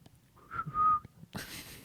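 A person whistles a short, high, wavering note, imitating the whistling dog from a Disney ride, quiet and brief, followed by a burst of breathy noise.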